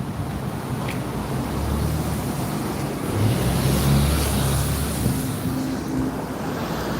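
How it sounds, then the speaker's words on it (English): A city bus passes along a busy road on Panama City's Cinta Costera waterfront. A steady, heavy engine and traffic rumble swells slightly midway, mixed with a wind-like broadband hiss. "Oh, there's a bus."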